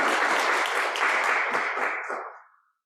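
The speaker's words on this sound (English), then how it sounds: "Let's give Maureen a clap." Audience at a university International Women's Day event applauding a moderator, a burst of many hands clapping close by that thins out and fades to silence.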